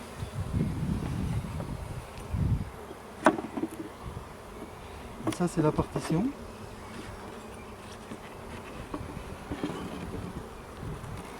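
Honeybees buzz steadily around an opened hive at an early-season inspection after a hard winter, a soft continuous drone with a few louder passes close to the microphone, while a person talks briefly over it.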